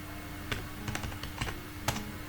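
Code being typed on a computer keyboard, quiet and close, with uneven clusters of key clicks over a low background hum.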